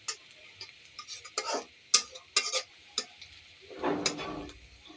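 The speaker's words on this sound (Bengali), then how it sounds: "এগুলো সব দিয়েছি, একসাথে ভেজে নেব।" Spices fry in a pan as a utensil scrapes and taps in sharp, irregular clicks, then a soft sizzling swell rises briefly near the end, all quiet and close.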